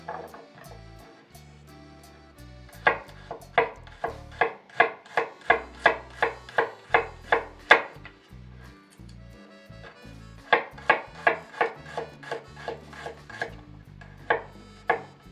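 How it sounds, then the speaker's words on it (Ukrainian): A knife slices garlic cloves into thin pieces for spicy marinated cabbage: a crisp, steady run of close, sharp chops on a board, with a pause in the middle before another quick series. "Нарізаємо часничок."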